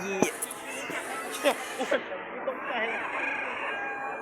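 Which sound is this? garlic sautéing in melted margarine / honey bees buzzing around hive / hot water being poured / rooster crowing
rooster crowing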